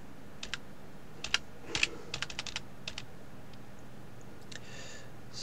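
Scattered keystrokes on a computer keyboard as a Windows product key is typed into a hex editor, sparse irregular taps with pauses between short bursts, close and fairly faint.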